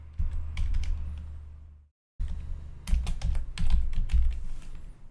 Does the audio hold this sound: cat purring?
no